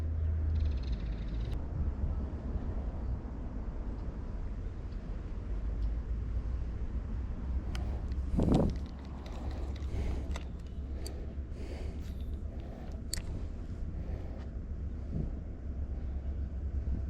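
Steady outdoor wind buffets the microphone throughout a fishing outing for panfish with a micro float and fly, a continuous low rumble broken by one brief louder gust midway.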